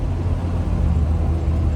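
A vehicle driving straight over bumpy ground, a loud, continuous, close engine-and-road rumble that holds steady with no voices.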